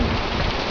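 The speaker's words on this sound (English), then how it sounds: "This is our monsoonal rain." Monsoonal rain falls steadily, a loud dense hiss of drops on surfaces that holds without a break for under a second.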